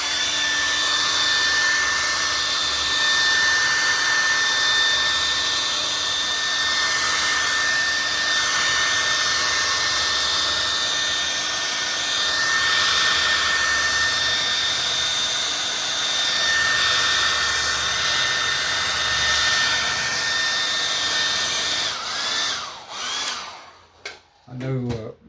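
A hair dryer blows steadily over an acrylic painting on canvas, a loud continuous whine and rush of air close by that runs for over twenty seconds before cutting off with some handling noise.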